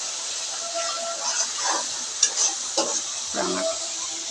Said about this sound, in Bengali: আমার মাছটা কষানো হচ্ছে।